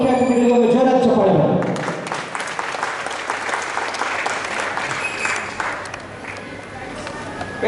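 Loud crowd applause erupts for performers and chief guests at a stage event, dense clapping swelling right after a voice on a microphone stops and continuing steadily to the end.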